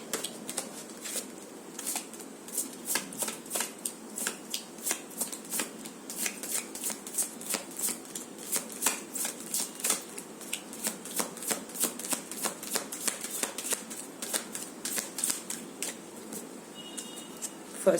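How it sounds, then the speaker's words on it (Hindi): A tarot deck is shuffled by hand over and over, giving dense, rapid riffling card flutters in steady bursts throughout, close and fairly quiet, with no talking. "जब तक नहीं आता है शफल ही करती रहूंगी।"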